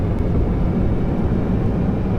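Steady, loud engine drone of a big airplane in flight inside the VRChat video game, a continuous low rumble with no voices over it.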